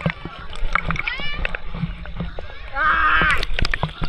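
A child swims and splashes in a village pond, making close sloshing and splatters of water. Excited children's voices and chatter run throughout.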